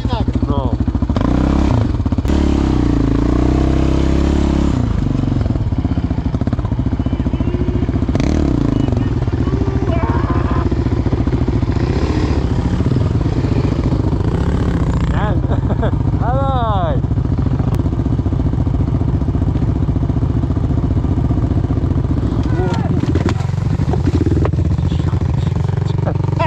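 A quad bike (ATV) engine drones steadily as it rides downhill on rough ground, with clattering and thuds over the run and voices talking intermittently nearby.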